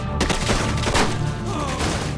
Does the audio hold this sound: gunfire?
yes